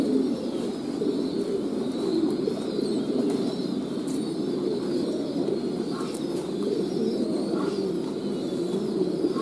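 Low, soft cooing of pigeons, including young birds, at a pigeon farm rolls on continuously, with faint chirps and a steady background murmur throughout.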